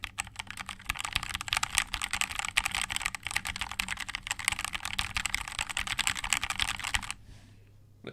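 Brisk typing on a mechanical keyboard with factory-lubed Gateron Pro switches, a dense run of close, clicky keystrokes that stops abruptly near the end.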